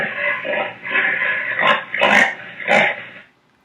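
A pig oinks in a run of harsh, low grunts, several close bursts in a row that fade out at the end.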